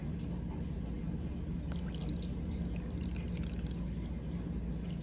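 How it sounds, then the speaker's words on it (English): Hot red liquid is poured steadily over a surface, giving a continuous close, low, bubbling rush with faint trickling and dripping on top. "I'm just gonna pour more red on it because this is still hot, just for fun."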